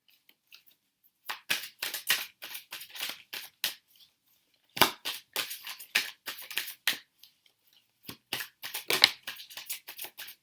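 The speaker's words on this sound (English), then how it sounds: "These cards are so slippery, so I'm just going to continue to shuffle." Slippery tarot cards are shuffled close to the microphone in quick bursts of rapid, crisp riffling and slapping, separated by short pauses.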